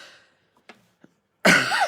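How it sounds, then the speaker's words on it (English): A single loud, harsh cough bursts out near the end after a few faint breathy sounds, close and clear. "I feel like I'm going to start coughing."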